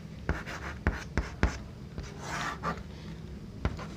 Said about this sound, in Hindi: इसको थोड़ा नीचे लिख दूँ